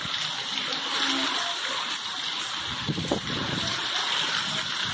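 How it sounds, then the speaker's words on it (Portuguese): Heavy rain pours steadily in Cacimba de Dentro, Paraíba, in a windy storm. It makes a dense, continuous hiss with splashing water and gusts, and a faint voice is heard once beneath it. "Chuva com vento"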